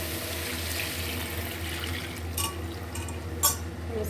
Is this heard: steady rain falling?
no